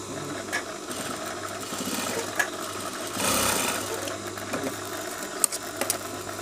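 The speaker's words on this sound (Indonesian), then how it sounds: "Kemudian yang terakhir di bagian ujung sini kita jahit." A sewing machine stitching a shirt buttonhole placket runs as a continuous close mechanical whir with rattling needle strokes and brief louder surges, with no one talking.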